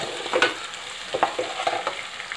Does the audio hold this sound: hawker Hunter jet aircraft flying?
no